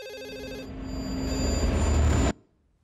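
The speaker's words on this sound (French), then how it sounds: "Oui, le téléphone sonne." A telephone rings in a cartoon, a steady electronic trill building in loudness over a couple of seconds before cutting off abruptly into silence, heard alone without speech.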